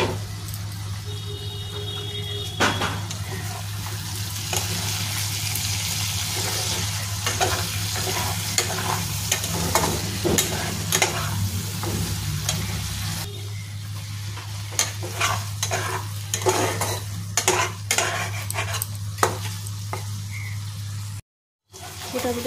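Tengra fish masala sautéing in a pan: continuous close sizzling with scattered stirring clicks and scrapes over a steady low hum, briefly cutting out near the end.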